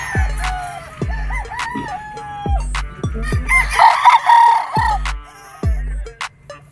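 Gamefowl roosters crowing at a farm in Angat, Bulacan, with several loud, overlapping crows and clucks close by, punctuated by regular low thumps.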